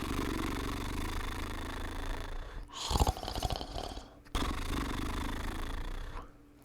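A narrator imitates loud snores in a cave, with a long rasping, engine-like drone broken by sharp snorting gasps, then fading back into a steady rumble.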